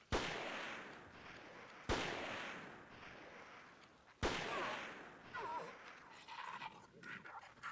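Three sharp gunshots crack out at roughly two-second intervals, each loud, close and followed by a fading tail, with faint voices and rustling moving in the background between them.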